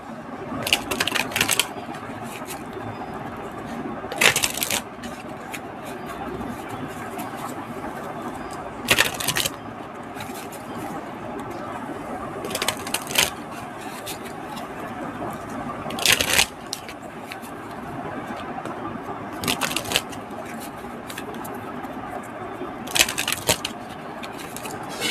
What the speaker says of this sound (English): Just a second, I wanna shuffle this first.